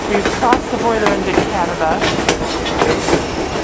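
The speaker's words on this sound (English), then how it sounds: "And the train started to slow down" Train on the White Pass rail line slowing down, with steady rumbling and rhythmic clickety-clack of wheels on the track, close and continuous, under someone speaking.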